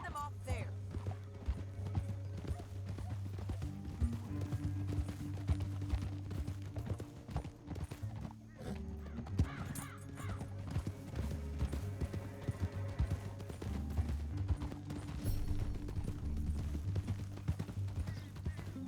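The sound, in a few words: horses riding, from video game Red Dead Redemption 2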